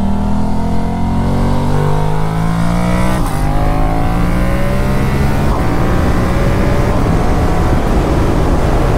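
A derestricted Yamaha MT-07 motorcycle accelerates hard, its loud, continuous engine roar climbing steadily in pitch through the gears, heard up close throughout.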